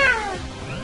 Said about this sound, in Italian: Mi devo ricordare che Furlon è un gatto